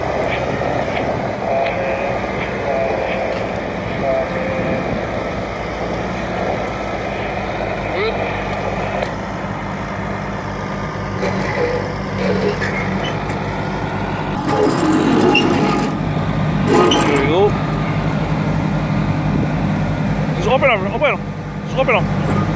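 A Tarp-a-matic machine unrolls a tarp over a sanitary landfill refuse site, its heavy engine drone steady and loud outdoors, with voices talking over it and occasional higher mechanical whines.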